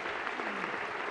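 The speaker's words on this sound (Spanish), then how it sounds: "merecedoras lógicamente de este aplauso" A theatre audience at an institutional regional-day ceremony claps in a steady, dense wash of applause that holds evenly for about a second.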